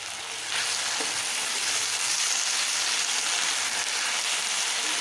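Dhenki greens, salted and with a little turmeric, frying in a pan: a steady, loud hiss and sizzle of hot oil with faint stirring, continuous throughout with no voices.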